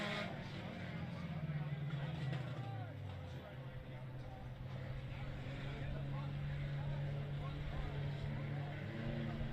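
Dirt track race cars roar around Cotton Bowl Speedway, a steady distant engine drone with rising and falling revs as cars circle, under continuous talk.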